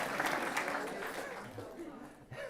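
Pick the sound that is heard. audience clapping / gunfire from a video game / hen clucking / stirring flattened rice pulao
audience clapping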